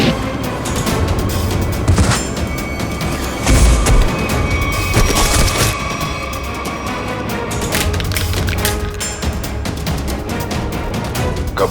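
Gunfire in a Hindi TV crime drama comes as several heavy, booming shots within a dense, loud bed of dramatic effects and noise.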